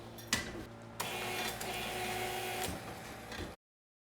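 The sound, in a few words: bottle labeling machine with foot pedal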